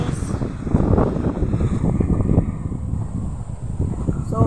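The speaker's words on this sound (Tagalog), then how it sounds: "Grabing hangin guys." Strong typhoon wind during Typhoon Enteng roars and buffets the microphone in continuous gusts, a dense rushing noise with a few faint voices underneath.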